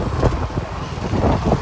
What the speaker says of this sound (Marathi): ट्रॅफिक भेटली आता आम्हाला खूप